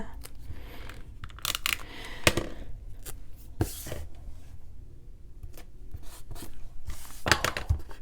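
Paper being torn by hand for a small planner header, a few short crisp rips and rustles scattered among quieter handling noises, close and moderately soft.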